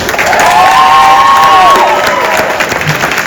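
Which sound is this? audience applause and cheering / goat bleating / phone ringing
audience applause and cheering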